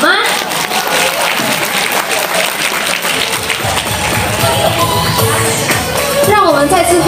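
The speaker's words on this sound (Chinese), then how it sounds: "爱的观众们，再给他们一个掌声好吗？" Audience clapping fills the hall after a children's dance performance at a school show, a loud, steady wash of applause with voices and some musical tones rising over it toward the end.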